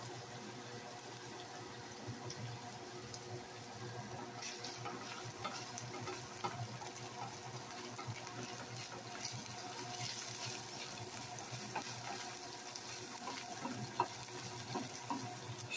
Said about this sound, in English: Let the vegetables sizzle and cook some more